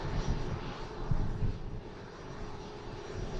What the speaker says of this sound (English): Beautiful Emirates A380 in the National Basketball Association livery today